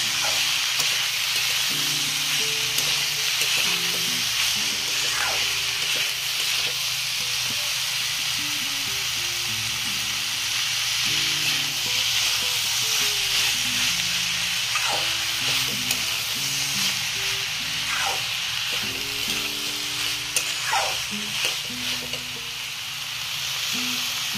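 Spices sizzle loudly and continuously in a hot pan, with a steady frying hiss and recurring soft scrapes as they are stirred.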